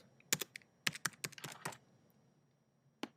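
Computer keyboard typing in a quiet room, a few irregular bursts of crisp close key clicks with brief pauses and a final pair of taps.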